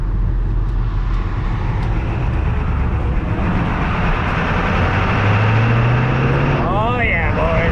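A chipped 7.3 diesel truck pulls away hard on a test drive, its engine droning loud and steady throughout as the pitch climbs gradually under acceleration.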